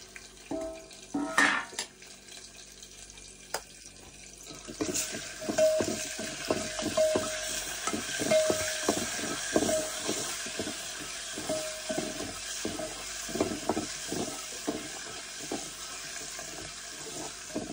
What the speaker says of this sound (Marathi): आता शेंगदाणा टाकायचं आणि शेंगदाणे परतून घ्यायचे.